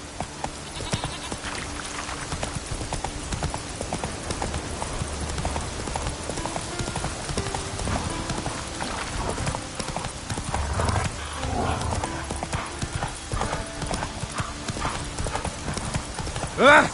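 Horse hooves clip-clop steadily on the ground in The Witcher 3, a continuous trotting rhythm over game ambience and music, with an occasional whinny.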